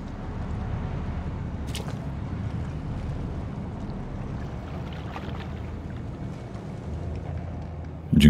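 Steady low rumble of a boat ride in The Sinking City video game, a constant engine and water drone with a few faint splashes and a louder thump at the end.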